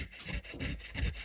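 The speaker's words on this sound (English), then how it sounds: "sorry if the sound of the rubbing is annoying" A hand rubs steadily back and forth over watercolour paper to lift off paint, making soft, close scratchy strokes in an even rhythm.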